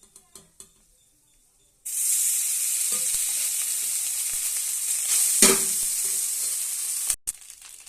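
Rice dropped into a pan of curry leaves frying in oil sets off a sudden loud, steady sizzle that hisses on for several seconds, with a stirring scrape partway through, after a few soft taps beforehand.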